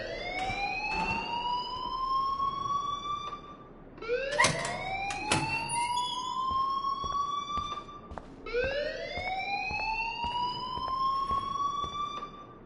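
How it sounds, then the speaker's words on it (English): A fire alarm blares in the video game Life Is Strange, sounding as a rising, wailing siren tone that sweeps upward three times in a steady cycle, loud and continuous, with brief clatter mixed in around the second sweep. "please turn off that alarm since that's your job"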